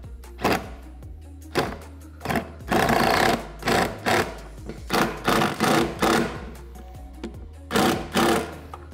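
Impact gun running a 10mm socket to tighten bolts on a cold air intake kit being installed on a 2020 Jeep Gladiator: a series of short, loud, rattling bursts, some in quick succession, with brief pauses between, close up.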